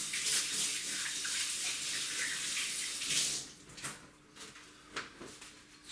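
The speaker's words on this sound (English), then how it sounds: "I'm just going to rinse off my hands and dry them." Hands being rinsed under a running kitchen tap while curing bacon, a steady broadband rush of water for about three seconds that then cuts off, followed by a few scattered drips and light handling clatters.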